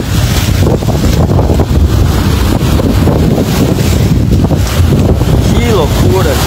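Strong wind gusts beside a lagoon in Arambaré, roaring and buffeting the microphone loudly and continuously, with a rushing, wave-like wash underneath.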